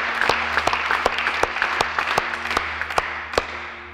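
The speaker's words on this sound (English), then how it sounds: "I want us to give a great big round of applause right here for everybody who prayed that prayer" A church congregation at Hillsong Church Phoenix applauding after a prayer, brisk sustained clapping from many hands with sharp individual claps standing out, close and lively throughout.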